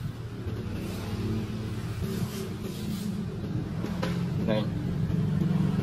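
A Honda Wave Alpha motorbike engine runs at a steady, close idle with a low rumble beneath someone talking, swelling slightly toward the end.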